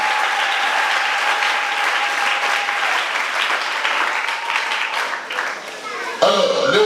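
A church congregation at a dedication closing ceremony bursts into loud, sustained applause, dense clapping filling the room nearly throughout before a voice and a brief clatter cut in near the end.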